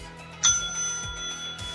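Single bright bell ding signalling a page turn in a read-along, a clear ringing tone that sustains and slowly decays over a soft background.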